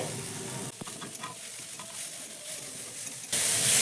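Grated sweet potato and vegetables stir-fry in a pan with a continuous sizzle and scraping stirs, a short dip in the sound near the middle and a louder hiss rising at the end.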